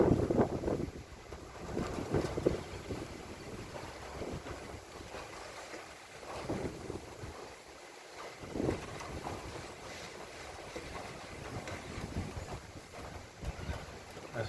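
Strong wind buffets the microphone on a Sunday morning, a continuous roaring rumble that surges and eases in gusts, loud and close throughout with no voices.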